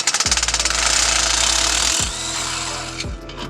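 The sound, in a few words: power tool running on car exhaust work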